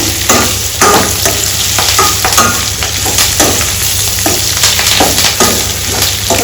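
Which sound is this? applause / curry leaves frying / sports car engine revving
curry leaves frying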